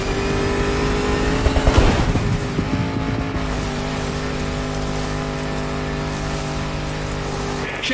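A 400-horsepower Land Rover Defender in The Crew Motorfest, driven in Dubai, revs loudly up close, a brief burst of throttle giving way to a steady, droning engine note.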